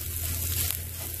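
Food sizzles softly in a pan over a steady low hum, a brief faint crackle standing out midway, with no talking.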